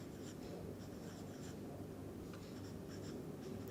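Chalk or marker scratching on a board during a chemistry lecture, faint, quick strokes in short bursts against a quiet room hum, with no speech.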